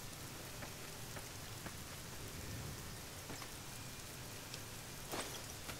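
Rain and thunder weather from the Nevada Skies mod in the Fallout New Vegas video game, a soft steady patter of rain with faint distant rumbles and a few brief clicks, fairly quiet, with no talk.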